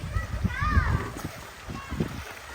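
A young child splashes and swims in water, with short bursts of splashing and sloshing while children's voices call out nearby.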